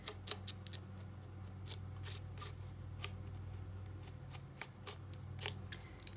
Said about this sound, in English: on the bottom here, again, I'm going to rough up my edges here